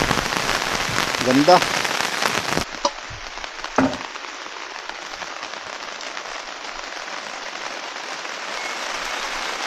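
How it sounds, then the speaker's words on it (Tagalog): Steady rain falling on a hillside path, a dense even hiss that continues throughout, with a brief spoken word and a few knocks near the start. "Nakabot ako ng ulan, madulas ang daan."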